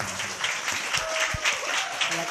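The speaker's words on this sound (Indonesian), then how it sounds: "Tepuk tangan dulu, tepuk tangan." Applause from a school audience at a report-card and ranking award ceremony, steady dense clapping throughout with faint voices and a brief tone underneath.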